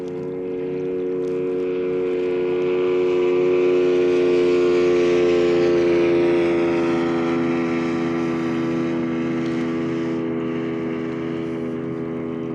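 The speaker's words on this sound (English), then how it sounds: "This guy's gonna blast through on his jet ski thing or whatever." A jet ski on a lake makes a loud, steady engine drone that swells as it passes nearby and then slowly fades, with no talking.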